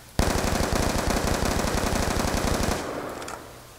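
Hip-fire from a gun with a laser sight in Black Ops 2 rips out as one rapid automatic burst of evenly spaced shots, loud and close, for about two and a half seconds before cutting off into a brief tail.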